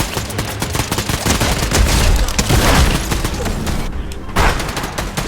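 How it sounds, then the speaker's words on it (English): Rapid bursts of gunfire crackle through a Fortnite match, dense overlapping shots and booms filling the whole stretch with only a brief lull near the end. "I'm shooting everywhere but him."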